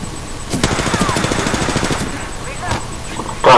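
Rapid automatic gunfire in the video game Apex Legends rattles loudly in a dense burst lasting a few seconds, with a sharper shot near the end.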